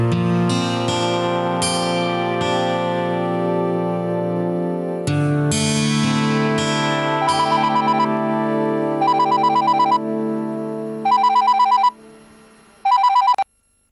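A telephone rings in a series of bright, repeating electronic tone bursts near the end, following a stretch of melodic music; no one speaks.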